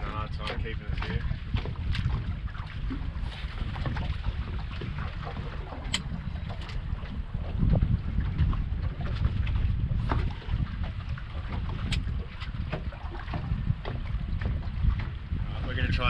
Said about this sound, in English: This is just too windy